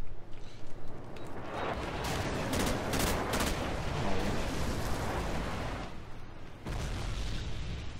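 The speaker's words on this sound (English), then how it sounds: "Airstrike was all over me." Airstrike explosions in Call of Duty 4, a sustained roar of booming blasts and gunfire with a heavy continuous rumble, briefly dipping before another loud surge.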